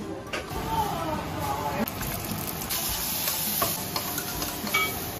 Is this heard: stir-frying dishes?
yes